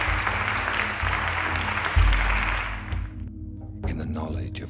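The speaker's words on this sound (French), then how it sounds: "Je propose de leur réserver un bel applaudissement." An audience claps steadily at a gathering, with broad clapping noise that fades away after about three seconds. A spoken voice and low tones follow.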